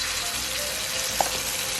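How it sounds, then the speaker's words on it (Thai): Steady, loud sizzling of marinated pork frying in hot oil in a wok, a continuous crackling hiss with one small sharp pop partway through. "ตอนนี้ผมก็ใส่ หมูหมักนะครับ"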